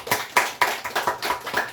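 A congregation clapping together in a Korean church service, six or seven sharp, evenly spaced claps in a steady rhythm, moderately loud and close, with no talking.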